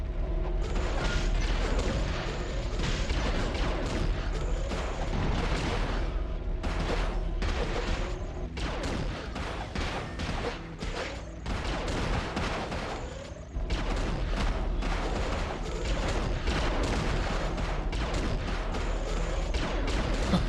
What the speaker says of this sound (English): They were literally just standing here destroying the hydraulics, weren't they?